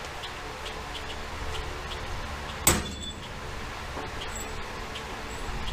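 A hammer striking a part from an old blown 1959 Vespa, a single sharp, loud metallic whack midway through, close by, against a quiet background hum, with no speech.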